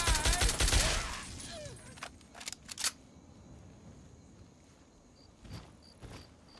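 A combat shotgun fires in Fallout 3 on Point Lookout: one loud, broadband blast opens with a decaying tail, followed by a few quieter, sharp clicks and thuds, and no voices.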